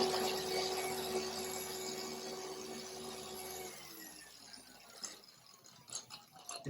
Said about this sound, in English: I literally just turn on the machine.